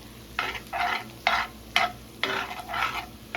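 Meat sauce with tomato paste for spaghetti is stirred in a pan, giving about eight separate wet, scraping strokes in an irregular rhythm over a soft simmer, close by.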